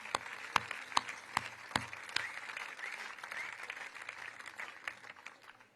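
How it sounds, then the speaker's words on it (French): Scattered clapping at a distance at a political summer conference speech, a few sharp claps at first that settle into a soft, sustained patter of applause from a crowd. "On peut les applaudir."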